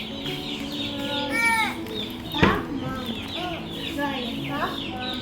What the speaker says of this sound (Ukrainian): Це цеплятки.